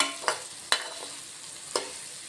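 Bitter gourd pieces frying in a pan with salt and chili, stirred in three quick scrapes over a quiet steady sizzle, close by with no talking.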